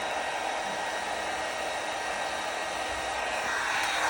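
A heat gun blows a steady, loud rush of hot air over an M Performance vinyl decal on a BMW 4 Series F32/F33/F36, an even hiss that holds for the full few seconds with no talking.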